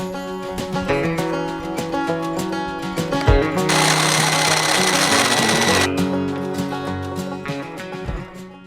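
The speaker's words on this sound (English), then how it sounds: "So I'm just going to try cutting up that rebar with this 3/4 inch" A 3/4 inch bit cutting through rebar set in concrete for anchor bolt repair, a loud rattling, hammering drill that runs steadily, with a harsher grinding burst in the middle and a few heavy knocks.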